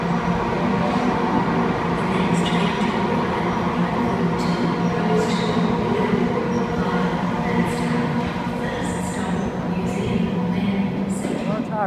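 A Sydney Trains Waratah set pulls into platform 2 at St James station at night, a loud, sustained rumble with squealing wheels and brake hiss echoing under the ground while someone talks over it.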